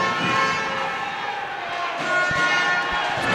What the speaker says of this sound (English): And there's the crowd. So here's the noise.